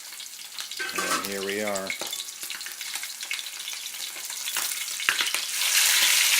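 Fish sizzling and spitting in hot oil in a fryer for fried fish with sweet and sour vegetables, a steady crackling fry throughout, briefly overlaid by a clattering stir and a short spoken remark, growing louder near the end.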